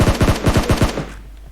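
Rapid machine gun fire in a video game, a quick burst of about eight close, punchy shots in even rhythm that stops abruptly and leaves a short fading tail.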